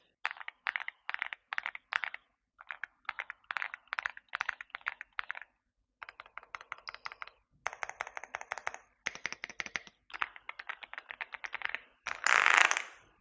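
Bursts of rapid clicky typing come from an Aula wireless mechanical keyboard with a gasket-mounted structure, close and crisp, with pauses between flurries, a few fast key runs and a louder clattering burst near the end, and no talking.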